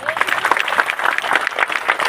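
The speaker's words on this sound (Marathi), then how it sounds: "सर्वांनी टाळ्या वाजवायच्या" Audience clapping at a Buddhist Dhamma conference welcome, a dense burst of applause from a crowd lasting a couple of seconds, with voices mixed in.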